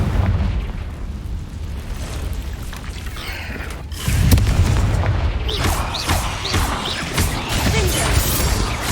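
Blasting curse explosions go off in a Hogwarts Legacy cave, with a deep booming blast followed by crackling debris and rumbling. A second heavier boom lands midway, trailed by scattered crashes and rattling.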